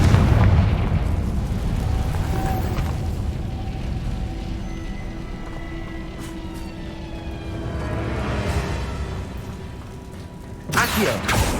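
Confringo blasting spells fire off in Hogwarts Legacy on PS5, giving a heavy booming explosion with a low rumbling tail, then a second sharp burst near the end, amid game ambience and a voice.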